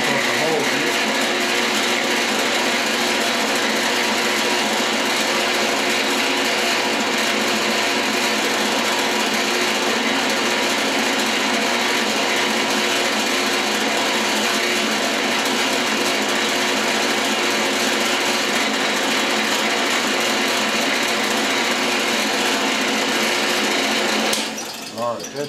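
A drill grinding steadily as it bores a hole through a metal flywheel mold, a loud continuous mechanical whir running unbroken for about twenty-five seconds before stopping at the end.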